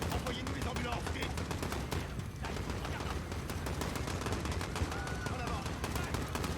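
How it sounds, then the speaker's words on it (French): Dense automatic and rapid gunfire in the Call of Duty Modern Warfare campaign, a sustained barrage of overlapping shots with explosions filling the whole stretch, with a voice heard amid the chaos. "Des coups de feu, plusieurs agents touchés."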